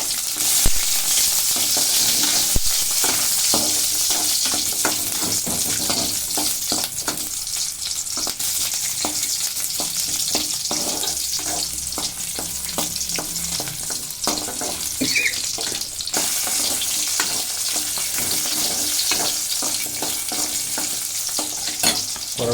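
Shallots, garlic and dried red chillies frying in hot oil for a vallarai keerai rice dish, a loud steady sizzle with scraping stirs and clicks running throughout, no talking.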